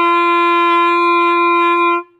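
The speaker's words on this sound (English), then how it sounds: "G is open, no buttons pressed down, not even your thumb. Sounds like this." A clarinet sounds an open G, one steady clear tone held for about two seconds at close range, then stopping cleanly.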